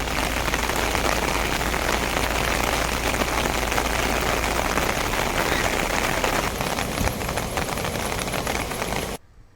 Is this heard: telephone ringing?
no